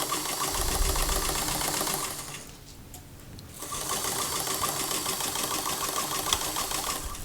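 A sewing machine stitches a seam through difficult fabric for a princess-seamed lined dress, running with a fast steady mechanical whir and hum, pausing for about a second midway before starting again, close and alone.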